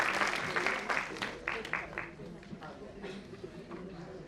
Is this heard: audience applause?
yes